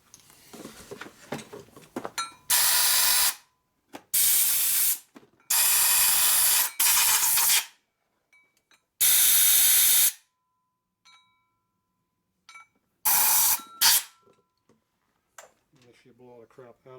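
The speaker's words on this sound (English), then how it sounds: "Make sure you blow all the crap out of the box." Compressed air blasting debris out of the box of a Harley shovelhead motor during a rebuild, loud hissing bursts of about a second each, repeated several times with pauses and some talk between them.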